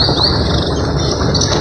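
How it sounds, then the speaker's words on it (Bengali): Several birds calling in dense jungle in the Buxa Jayanti area of the Dooars, bright chirps and a shrill continuous insect-like whine over a steady background hum, fairly loud and close. "বিভিন্ন পাখির ডাক"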